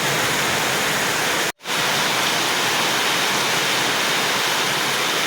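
Heavy rain pours down in a dense, loud, continuous roar, broken only by a momentary cut.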